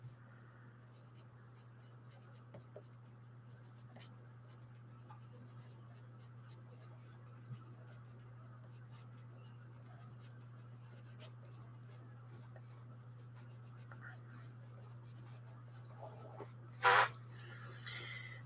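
Comic page drawn by hand, soft scratchy pencil strokes on paper in short intermittent bursts over a constant low hum, with a brief louder scrape near the end.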